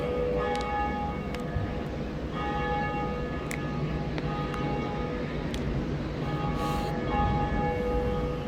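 Bell ringing in the Dark Souls video game, a steady tolling tone held over a dense, continuous rumbling backdrop of game ambience.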